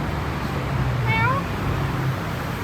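A single short cat meow rises and falls over a steady low background hum in Bangkok.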